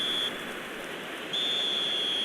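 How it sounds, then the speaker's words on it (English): Referee's full-time whistle in the eFootball Mobile football video game: a shrill, steady tone blown twice, a short blast then a longer one, over constant stadium crowd noise. "Added time is up, and there goes the whistle"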